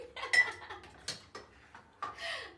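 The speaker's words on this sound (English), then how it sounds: "I want to do the dishes real quick" Dishes and cutlery clink and clatter during washing up in a kitchen with a dish rack, jug and cups, a series of sharp, close metallic and ceramic knocks at irregular intervals with no talking.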